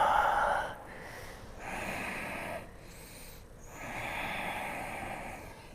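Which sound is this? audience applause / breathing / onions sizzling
breathing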